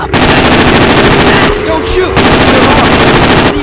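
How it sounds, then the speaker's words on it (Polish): Rapid, continuous rifle fire from the video game Terrorist Takedown 3, loud and close, with a brief break before the automatic bursts resume. "Mamy karabin z nieskończoną amunicją."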